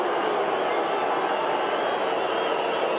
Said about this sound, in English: Crowd roaring, trying to put him off.